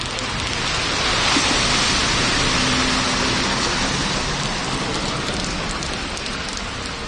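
Light rain falls steadily over a flooded street in Mexico, a dense, loud, continuous hiss of drops on water and pavement, with a faint low engine hum underneath.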